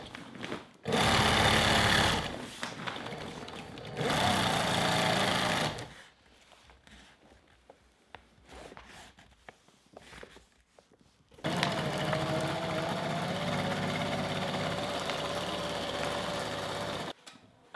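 A sewing machine stitches a sail seam in a sail loft, running loud and steady in two short bursts, pausing with faint handling noises, then resuming in one long even run.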